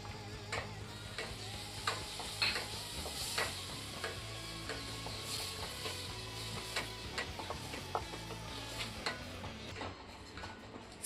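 Garlic fries in melted butter in a pan while a utensil stirs it, a soft steady sizzle broken by repeated scraping ticks and clinks, fairly quiet and close, with no talk.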